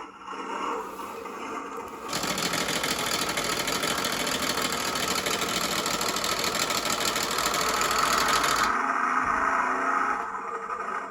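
A New Bright RC Bigfoot 4x4 1:10 scale toy truck's electronic engine sound switches on, rumbling and chugging steadily for several seconds before cutting off abruptly.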